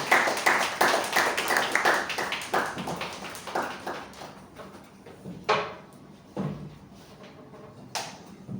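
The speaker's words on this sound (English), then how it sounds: "Let's give him a round of applause." A few people clapping at a Toastmasters club meeting, with a brief burst of distinct claps that quickly thins out into scattered single claps.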